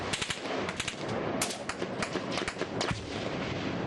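Dense bursts of automatic gunfire with heavy explosive thumps of rocket-propelled grenades during a Taliban attack on a US outpost, sustained and chaotic, crackling throughout without pause.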